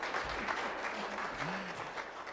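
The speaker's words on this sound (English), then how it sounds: "you can clap." Congregation clapping at a church service, a steady wash of many hands over a short stretch, with a faint voice or tone drifting underneath.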